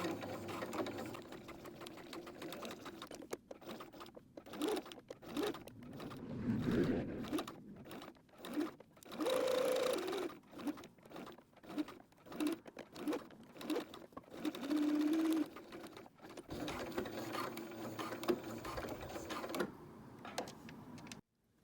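Sewing machine stitching a fabric change purse, quiet bursts of rapid mechanical whirring separated by short pauses and stops, close up with no talking.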